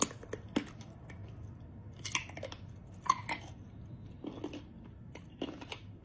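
Crunchy jellyfish from Japan, tossed in a homemade sesame oil sauce, chewed up close: crisp bites and wet crackling mouth sounds in an uneven rhythm, with a few sharper crunches standing out, quiet and with no talking.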